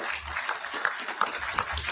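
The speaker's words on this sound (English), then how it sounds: "Give her another round of applause." Light audience applause at a live gathering, scattered claps with a few sharper hand strikes standing out, moderately quiet and fairly continuous.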